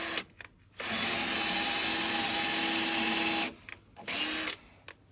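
Power drill boring holes into a wall during roof timber treatment against wood-boring insects, one sustained loud whine lasting nearly three seconds, then a second shorter burst after a pause, with short taps before.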